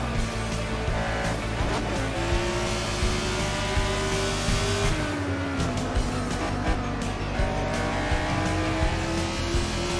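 A 1975 Formula 1 race car in Assetto Corsa on a German circuit, its engine screaming loud and close, rising and falling through gear shifts and revs, with brief tyre noise and no talking.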